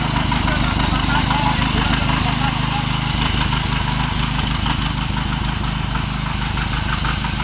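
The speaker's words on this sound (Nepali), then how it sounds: "आयो ट्र्याक्टर" A large diesel farm tractor idles nearby with a steady, low, throbbing rumble that holds unbroken throughout.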